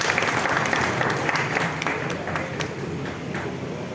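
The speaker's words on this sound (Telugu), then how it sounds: "వారిని కూడా చప్పట్లతో స్వాగతించవాలని కోరుతున్నాను." Steady applause from an audience welcoming a guest at a political gathering, a dense continuous wash of clapping that holds loud for the whole span before easing slightly toward the end.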